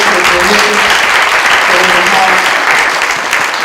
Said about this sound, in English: Can y'all clap it up?